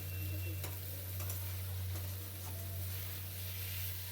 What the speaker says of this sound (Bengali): শাপলাটি এবার ভালো করে নেড়ে নিচ্ছি